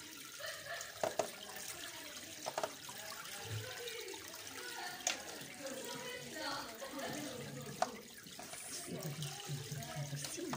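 Water drains from boiled vermicelli as it is strained. A faint, continuous trickling and dripping runs throughout, with a few sharp clinks breaking through the low wash.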